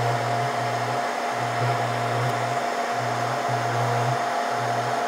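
Bottom hot air heater of a Scotle IR 360 rework station blows with a steady, loud whooshing roar and a constant tonal hum, while a low pulsing drone cycles on and off in regular bursts throughout.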